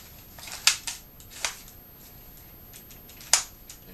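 A Gear Up Spectre foam dart pistol fires whistler darts made of foam with hot-glued weighted BB tips. A few sharp, snappy clicks ring out, spaced irregularly against a quiet background.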